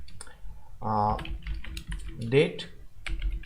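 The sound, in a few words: typing code on a computer keyboard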